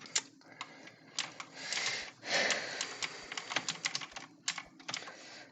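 Rapid clicking of keys on a computer keyboard while playing Roblox, uneven bursts of typing with a brief louder rustle in the middle, close by.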